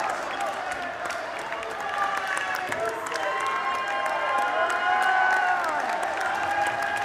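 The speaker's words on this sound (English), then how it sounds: "As you hear the hometown Buckeyes and their crowd pumped" The hometown Buckeyes crowd cheers and applauds at NCDA Nationals 2024 bracket play. Dense, continuous clapping and cheering fill the whole stretch at a steady, loud level, with voices mixed into the noise.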